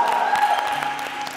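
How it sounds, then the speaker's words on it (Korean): Short burst of applause from a small group on a set with K-pop idol group The Boyz, with close, crisp claps fading out after about a second alongside faint voices. "자, 박수 한번 쳐주세요."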